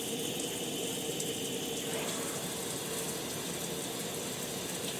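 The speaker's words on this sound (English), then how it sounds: "This is the mixed function with the shower head and the hand shower running together." Shower head and hand shower run together, a dense, steady hiss of spraying water that stays loud and even, close by, with no talking.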